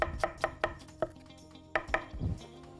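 A knife chops an onion on a board in a home kitchen, with sharp, close, irregular knocks in short bursts and a pause in between, heard alone without talk.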